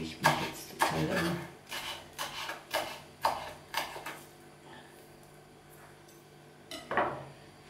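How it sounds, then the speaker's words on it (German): A knife cuts shrub dates into smaller pieces on a board in a kitchen, a run of about eight crisp rhythmic chopping taps, close and moderately loud, tapering off with one more knock near the end. "Ich habe jetzt noch drei so Strauchdatteln reingemacht. Die schneide ich mir kleiner ab"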